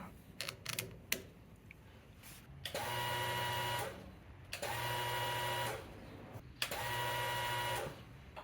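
An electric fuel pump on a Factory Five Type 65 Coupe, suspected faulty, whirs in three steady bursts of about a second each, separated by short clicks and pauses, loud and close with no talk.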